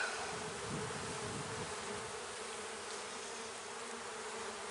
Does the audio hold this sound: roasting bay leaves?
no